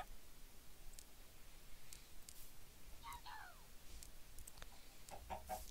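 Chickens cluck in the Minecraft Pixelmon video game, giving a few faint, brief electronic clucks over a steady low background.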